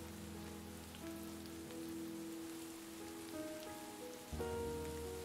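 Rain falls steadily on surfaces in the video game Behind the Frame, a constant soft patter with musical tones ringing over it and no voices.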